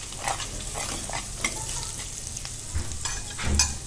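Spices with chilli, coriander-cumin powder and salt sizzling in a pan for chhole as they are stirred and mixed, continuous frying hiss with rhythmic scraping strokes, close and alone.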